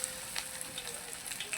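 Batter-coated popcorn chicken frying in oil makes a dense, steady crackle and fizz, close by and even in level throughout.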